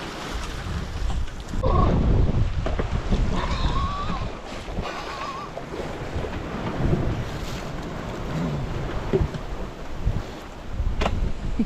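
Steady wind buffeting the microphone over open water during a transatlantic boat crossing, with rushing, roaring gusts and the wash of waves against the boat throughout.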